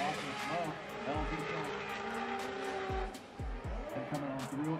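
Formula Drift race cars slide through a sweeper at St. Louis, engines roaring and tires squealing in long screeches, with several sharp passes and gear-change bursts under a commentator's voice.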